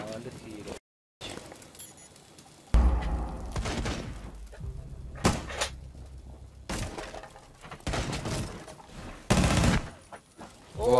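Gunfire rings out in the video game Abe's Oddworld as several sharp, loud bursts and shots scattered among game effects, with a voice talking over much of it.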